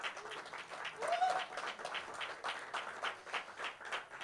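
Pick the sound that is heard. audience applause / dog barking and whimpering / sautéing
audience applause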